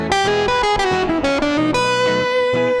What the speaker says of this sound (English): Nice little country transition lick.